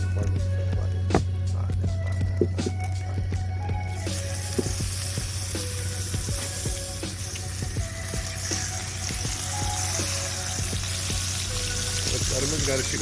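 Fish frying in oil aboard a fishing boat at sea, a steady loud sizzle over a constant low engine hum, punctuated by clatters and knocks.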